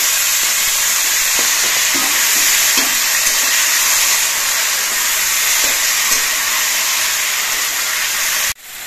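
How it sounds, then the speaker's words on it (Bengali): Loud, dense sizzling as taro leaves go into hilsa fish heads frying in oil, a bright continuous hiss with faint stirring knocks, close and steady, cutting off abruptly near the end. "ইলিশ মাছের মাথাগুলো আমি 3-4 মিনিটের মতো ভেজে নিয়েছি। এবার এর মধ্যে আমি কচু শাকগুলো দিয়ে দিচ্ছি।"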